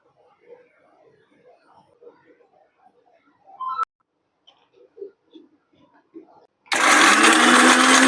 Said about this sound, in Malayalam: അപ്പൊ തക്കാളിയും നമ്മൾ ക്യാഷ്യും കൂടെ രണ്ടും കൂടെ ചേർത്ത് നന്നായിട്ടൊന്നൊരു അരയ്ക്കാൻ പോവാണേ